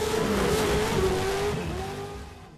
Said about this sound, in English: 8 drivers in 900 horsepower custom-built trucks brought some fast and furious head-to-head racing to the slopes